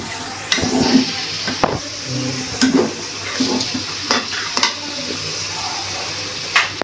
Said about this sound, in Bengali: মিশাই নেবেন টক দইটা। ভালো করে নাড়াচাড়া করে নেবে।